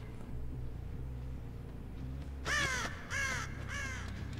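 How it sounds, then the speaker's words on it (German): Several crows in Dead by Daylight give three loud, harsh caws close by, breaking over a low, droning ambient hum. "Die Raben haben sich wieder hingesetzt."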